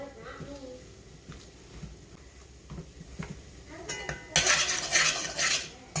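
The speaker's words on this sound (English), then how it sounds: "So just mash the beans." Beans being mashed in a pan for a beef burrito filling, with repeated scraping and clinking of a utensil against the pan, rising into a louder burst of sizzling stirring near the end, under a person talking.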